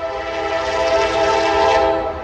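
A train horn blares in a sustained, loud chord while the train rumbles past at night at Marion Union Station, holding steady and swelling slightly before easing off.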